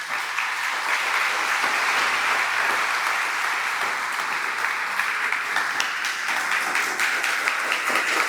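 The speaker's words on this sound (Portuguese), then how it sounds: "Dá um aplauso ao Senhor Jesus." A church congregation applauding together, dense sustained clapping from many people filling the room, loud and steady for several seconds.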